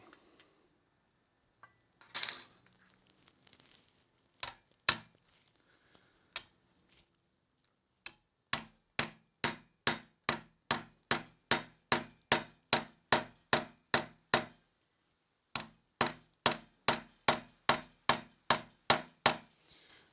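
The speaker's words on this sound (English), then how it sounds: "I'm gonna go some real light hits on the back side of this with a very low crown body hammer" A low-crown body hammer taps a metal car door trim lightly and repeatedly, a few scattered hits at first, then a steady, evenly spaced run of crisp, close knocks.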